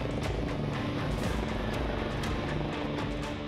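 A helicopter flies in strong wind, ferrying big bags to a worksite by a railway bridge, with a steady dense rotor and engine rumble mixed with wind buffeting, distant and even throughout.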